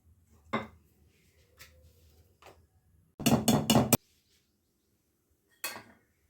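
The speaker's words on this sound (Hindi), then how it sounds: "अब हम केक टीन तैयार कर लेते हैं जिसमें हम इसको" A metal cake tin is handled during baking prep, with scattered light metallic knocks and clinks, a brief burst of rapid rattling clatter in the middle, then one last knock, all fairly quiet.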